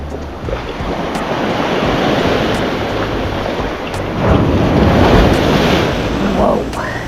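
Loud ocean waves breaking and churning on the shore at North Clearwater Beach, Florida, a continuous roar of surf with heavy wind buffeting the microphone and a bigger surge crashing in about halfway through.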